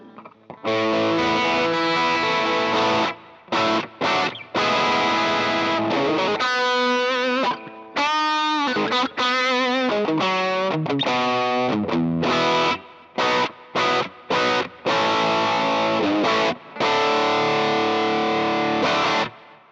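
Distorted electric guitar through a Hotone Pulze Mini amp modeler set to a Black Twin amp, playing chords and short riffs with choppy stops and a ringing, splashy spring reverb tail, loud and upfront with no talking.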